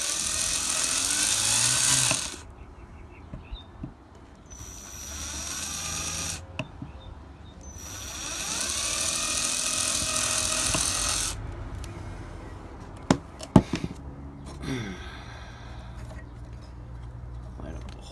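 A small rotary tool fitted with a tiny drill bit buzzes in a few long, bright bursts while drilling into a 1997-2003 Ford F-150 cupholder, with quieter gaps and a few sharp clicks between runs.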